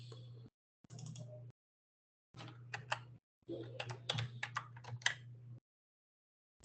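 Code typed on a computer keyboard in bursts of quick, close key clicks separated by brief pauses, with a steady low hum beneath and no talking.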